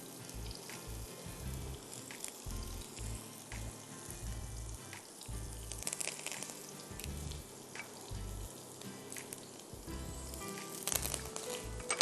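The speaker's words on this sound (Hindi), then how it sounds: "जैसे ही शाहताज कुकिंग ऑयल गर्म हो जाए, फिर आप इसमें कड़ी पत्ते डालिए" Curry leaves crackle and sizzle in hot Shahtaj cooking oil with onions in the pan, a steady close frying hiss with scattered pops throughout, while low voices talk in the background.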